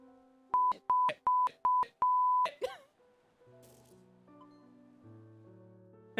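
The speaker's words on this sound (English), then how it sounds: "believe that was Morse for help." Morse code beeps in the video game Finding Paradise: a run of five short, evenly spaced tones and one longer held tone, loud and clear, followed by a quieter low musical drone.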